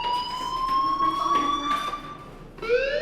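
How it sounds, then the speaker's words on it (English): A fire alarm in a video game sounds as a steady high electronic tone with harmonics, held continuously, then briefly dips before resuming with a rising sweep, fairly loud over a soft background. "Hey, do you hear that fire alarm?"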